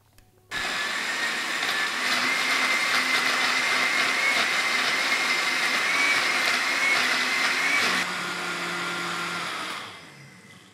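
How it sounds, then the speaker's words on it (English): An electric blender whirs steadily as it purees a spice paste for ikan pepes, a loud continuous motor drone that starts abruptly, holds for several seconds, then drops in pitch and winds down. "just put it on the blender"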